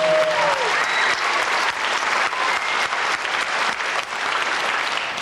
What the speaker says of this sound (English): Give a nice round of applause for all of you.